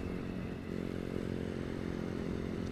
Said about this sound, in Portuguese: Moto futricada é outra vida